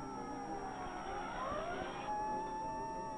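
Fire engines from Engine and Ladder Company 35 of the Los Angeles Fire Department roll out of the station in 1959, a siren wailing steadily with a rising tone over continuous rumbling engine noise, fairly close and loud, with no talk.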